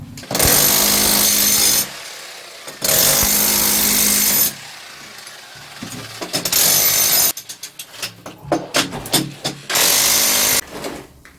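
A power breaker chisels away a roughly 5 cm thick mortar screed layer on a floor during drain leak repair, firing in loud sustained bursts separated by short pauses and some scraping clatter.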